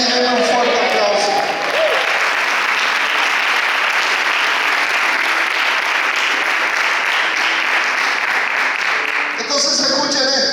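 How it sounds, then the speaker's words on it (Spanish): A church congregation breaks into loud, sustained applause during a Spanish-language sermon. Dense clapping fills the room for several seconds, with a voice talking at the start and again as the clapping ends. "denme un fuerte aplauso"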